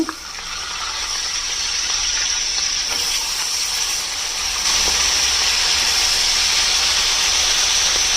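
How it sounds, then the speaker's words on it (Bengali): Salted hilsa fish pieces fry in hot oil, a loud, steady close-up hiss and sizzle that thickens partway through as more fish goes in, with a few faint clinks. "দিয়ে এইগুলোকেও হালকা করে ভেজে নেব"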